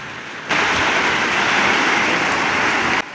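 Torrential rain pours down in the town of Havelian, a dense, loud, steady hiss of water that starts abruptly and cuts off just as suddenly, with no voices.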